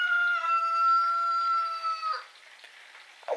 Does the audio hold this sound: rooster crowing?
yes